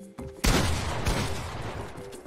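Gunfire from the Fortnite video game: a sudden loud burst of rapid shots that carries on as a dense rattle for about two seconds, close and harsh.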